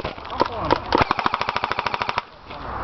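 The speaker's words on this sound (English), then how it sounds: "Oh, that's a nice sounding gun." An airsoft gun fires outdoors during a team skirmish game: a few separate sharp shots, then a steady full-auto burst of roughly twenty evenly spaced cracks, loud and near, ending abruptly.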